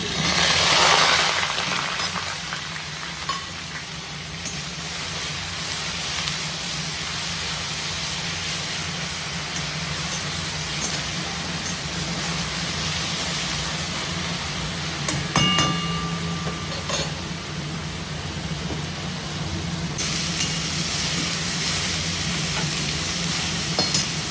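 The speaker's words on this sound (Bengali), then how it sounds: "পেঁয়াজ আর কাঁচা লঙ্কা আধা বাটা করে রেখেছে, এটাকে দিয়ে দেবো তেলে।" A half-ground paste of onion and green chili frying in hot oil, seasoned with dried red chili and bay leaf, gives a loud, constant, close sizzle with occasional utensil clinks, and no voices.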